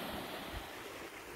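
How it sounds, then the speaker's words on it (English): Surf washes onto a calm beach in a steady, broadband rush, with wind buffeting the microphone throughout and no voices. "Even got a little bit of surf out here if you want to take a longboard."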